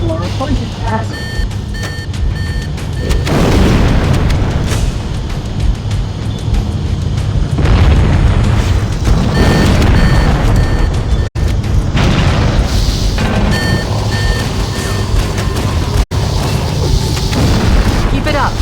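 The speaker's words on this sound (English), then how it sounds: "Use explosives on the other 3 reactors. That should be enough to trigger a wildcat explosion of the engines." Fusion reactors in Halo CE blowing up: loud, sustained rumbling booms and dense game effects fill the scene, with electronic beeps and intermittent heavy bursts running throughout.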